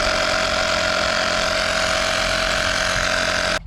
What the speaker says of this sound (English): I just have the air compressor at this little fitting right here at the top.